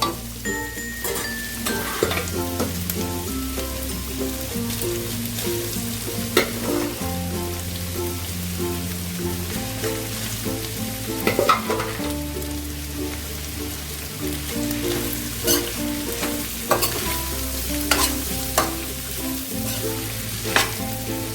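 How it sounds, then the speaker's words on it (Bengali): Rice tossed with shrimp in a hot pan for restaurant-style mixed fried rice, a steady loud sizzle with scraping stir strokes throughout, under continuous background music. "এবার আমি ভাতটা মেশাতে পারি"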